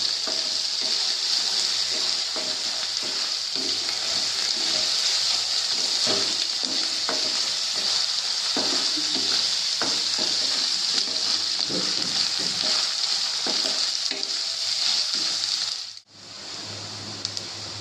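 Browned onions with ginger-garlic paste frying in a pan for aloo dum, a loud, continuous hiss and sizzle with scattered stirring knocks, cutting out briefly near the end before resuming.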